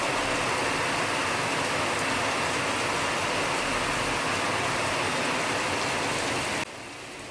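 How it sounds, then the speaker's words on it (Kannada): Steady heavy rain pours down on a Sunday, a dense unbroken hiss that holds for several seconds and then drops off slightly near the end, with no voices. "ಮಳೆ ಮಳೆ ಮಳೆ."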